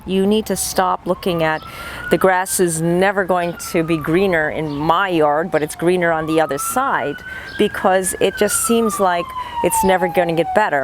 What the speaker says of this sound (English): I apologize for the siren in the background